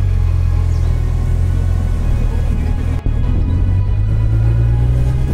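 Motorcycle engine rumbling steadily up close while riding out of New York City, a continuous low drone with a brief dip midway and a slight rise toward the end.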